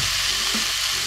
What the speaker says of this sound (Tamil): இப்போ வந்து இஞ்சி பூண்டு போட்டுக்கலாம்.